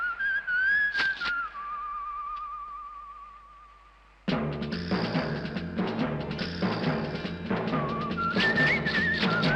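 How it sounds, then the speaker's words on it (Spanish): Proto Man's signature whistle from the Mega Man video game, a melodic whistled tune that plays alone and then continues as busy game music enters partway through. "cada que se presenta suena un silbido"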